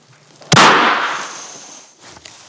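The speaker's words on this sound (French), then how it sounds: "Donc je viens de tirer, on va donc maintenant faire les prélèvements sur mes mains." A single sharp rifle gunshot cracks close and loud, then rings and decays for over a second, fired for a gunshot residue test.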